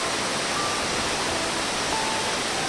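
Manikmoyo waterfall, clear cold water pouring in a steady broadband rush, close and constant throughout with no breaks or voices.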